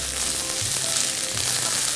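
Onions frying and browning in a pan for a chickpea curry, a steady close hiss and sizzle with soft crackles throughout, no voices.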